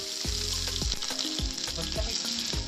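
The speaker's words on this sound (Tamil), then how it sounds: "பச்சை மிளகா வதங்கினதும் நறுக்கி வச்ச 2 வெங்காயத்தை சேர்த்துக்கலாம்." Sliced onions and green chillies sizzle steadily in hot oil in a pan for a spicy mutton roast, with a continuous loud crackle and occasional stirring scrapes.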